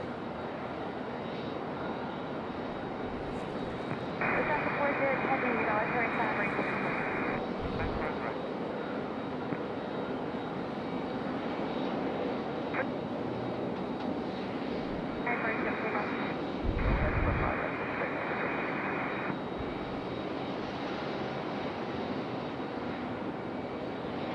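A Lufthansa passenger jet roars steadily in the distance at Raleigh-Durham International Airport for the whole stretch, a broad, even rumble with a few brief electronic tones sounding over it.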